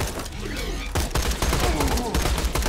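Sustained video-game gunfire from Borderlands 2, a steady run of rapid shots and impacts at moderate loudness, continuous throughout without clear speech.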